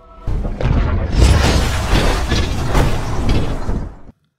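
A heavy, rumbling explosion of a meteorite striking Tokyo's Shibuya district hits suddenly and roars with crashing debris for several seconds before cutting off.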